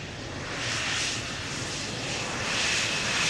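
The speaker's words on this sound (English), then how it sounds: "next up is KLM flight 1088. It is number 175, arrival for Cardiff, 305 nautical miles" A KLM passenger jet arriving at Amsterdam Schiphol Airport, a steady broadband roar of jet engines rising slightly and holding as the aircraft approaches, with no talk.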